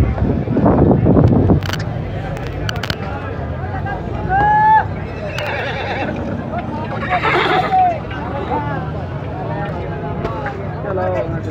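A horse whinnies briefly at a busy horse market in Gujrat, with crowd babble and people talking throughout.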